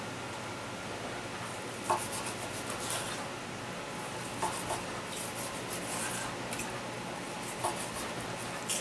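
A knife dices steak fat on a cutting board for a pot of beans, making faint, steady scraping and tapping chops with a few sharper knocks, heard alone at low volume.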